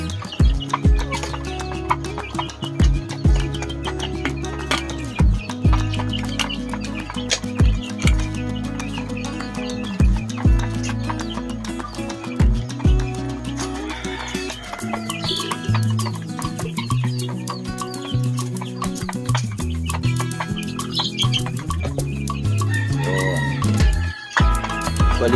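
A flock of month-old chicks and chickens clucks and crows continuously in a backyard, with loud repeated calls and a rooster's crowing close by and overlapping bird noise throughout.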